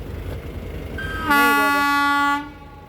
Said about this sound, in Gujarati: એટલે રેલગાડી જો બીજી આલી આવે છે